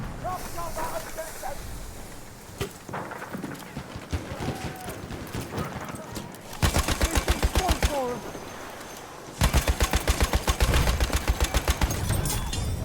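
Weapons fire in the Battlefield 1 video game. Loud bursts of rapid automatic fire from a support weapon come in two long runs in the second half, after scattered shots and mixed battle noise mingled with talk.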